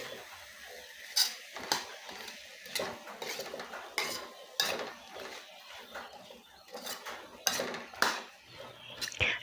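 A utensil stirs sautéed chayote with shrimp and crushed pepper in a pan, giving irregular clinks and scrapes against the metal alongside a soft sizzle, with no talking.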